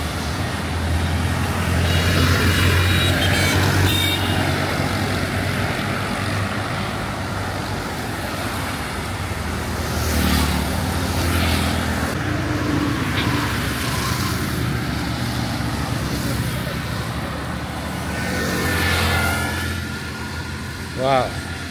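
Road traffic on a service road in Dar es Salaam, Tanzania: a steady wash of passing cars and trucks with idling engines and general roadway noise, heard continuously at moderate loudness with occasional louder vehicle passes.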